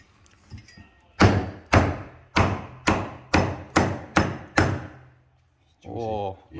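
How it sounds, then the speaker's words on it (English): Seven sharp, evenly spaced knife chops through crispy roast pork belly with a freshly sharpened blade, each a loud thud against the board, followed by a brief voice near the end. "Dad's gonna chop up the pork belly now with the freshly sharpened knife"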